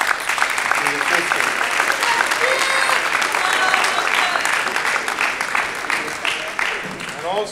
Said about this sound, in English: So I ask the brothers to give a round of applause to the sisters.